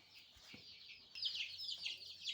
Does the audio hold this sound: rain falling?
no